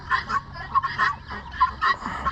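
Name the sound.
Sebastopol geese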